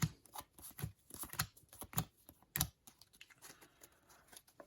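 Quick crisp playing-card snaps and slides as cards are drawn one after another from a trading card game deck, a steady handful of light flicks close to the listener.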